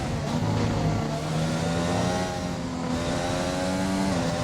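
Several race car engines in a racing video game drone and rev together at Bahrain, steady and loud, with overlapping whining pitches shifting as cars accelerate.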